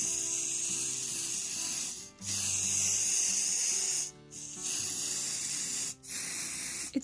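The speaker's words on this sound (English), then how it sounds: "Spray paint the smaller animals in gold color." Hissing bursts of a gold spray paint can coating small animal figures, long sprays broken by brief pauses, close up with a faint mechanical hum beneath.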